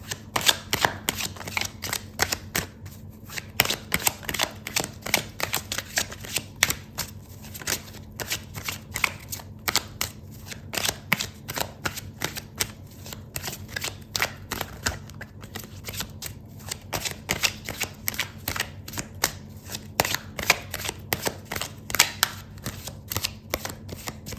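Tarot cards are shuffled steadily for a long stretch, a dense run of quick papery riffles and slaps close by, with no talking over it.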